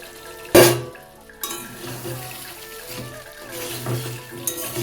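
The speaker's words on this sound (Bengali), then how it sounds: "মশলার সাথে সবজিটা মিশিয়ে নিচ্ছি।" Fried drumstick, pointed gourd and potato pieces being stirred into cooked spice masala in a pan, with a sharp clank of the spoon against the pan, then soft scraping and sizzling strokes close by, and no talk.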